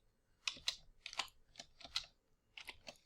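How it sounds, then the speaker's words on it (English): Typing on a computer keyboard: a quick, uneven run of about ten sharp key clicks in small bursts over three seconds, close and clear with no talking. "If I can type."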